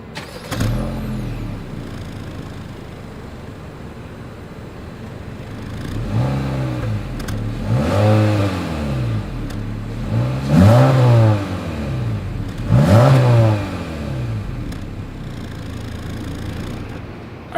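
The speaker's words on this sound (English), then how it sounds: "As always, here is that exhaust clip." A 2022 Honda Civic's exhaust revs several times in succession, each throttle blip rising and falling in a deep, throaty burst over a low idle.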